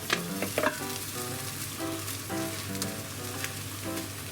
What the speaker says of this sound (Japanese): でまた強火にして、最後卵の面も軽く焼きます。